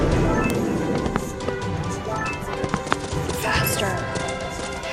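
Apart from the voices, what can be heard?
horse hooves galloping in a horse riding video game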